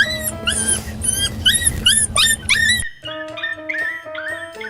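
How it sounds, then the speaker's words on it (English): A dog named Boomer barks over a phone call: a fast run of loud, bright yelps up close, then a thinner series of barks heard down the phone line. "It's a dog."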